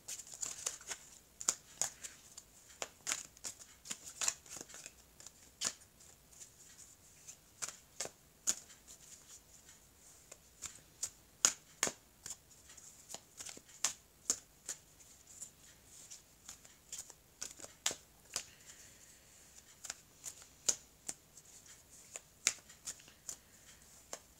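Oracle card deck being shuffled and cut by hand, a long run of quick crisp card riffles and soft flicks at close range with irregular rhythm, no talking.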